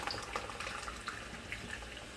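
Liquor splashed from a nearly empty bottle into a mixed drink, a short continuous liquid pour with a faint trickle, heard close and alone.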